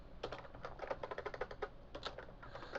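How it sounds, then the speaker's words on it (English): Quick, steady keystrokes on a computer keyboard while renaming files in Windows, a close, quiet run of clicky taps with short pauses between bursts. "I'm just pressing F2 on the keyboard"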